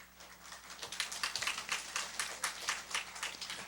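A church congregation at a summer revival service claps in a quick, fairly even rhythm, soft and somewhat distant, with no talk over it.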